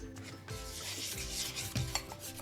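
Peanut butter banana muffin batter being stirred in a bowl with dry ingredients like cinnamon, baking soda and baking powder, giving steady close rubbing and scraping strokes with occasional louder knocks against the bowl, no talking.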